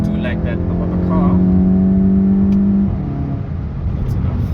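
A Volkswagen Golf 7.5 GTI with a DSG gearbox pulls hard from first into second gear, the engine tone climbing steadily, then dropping at the shift before building again, heard from inside the car.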